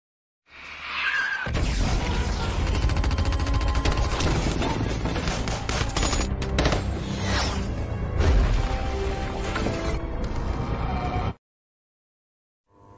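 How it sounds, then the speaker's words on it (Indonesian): Dense gunfire and mortar blasts from a battle scene in the film 13 Hours, set in Libya, form a loud, continuous barrage of cracks, crashes and whooshes for about ten seconds before cutting abruptly to silence. "para pemberontak kembali melakukan serangan dengan menembakkan mortar ke arah Jack dan yang lainnya"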